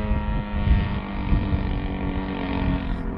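A steady engine drone with a low rumble and buzzing harmonics from a Su-26 aerobatic plane taking off into the wind at Kęty airfield, heard over gusty wind noise on the microphone, fairly close and constant throughout.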